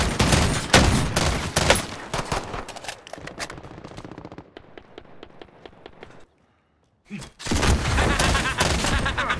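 Rapid bursts of rifle fire in Warzone, loud and dense for the first few seconds, thinning into evenly spaced single shots before a short silence, then heavy firing returns.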